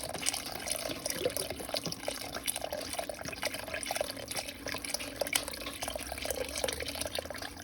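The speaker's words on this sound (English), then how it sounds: "Sorry, I had the tap running before" Steady running water from a kitchen tap, a continuous close splashing hiss with no voices.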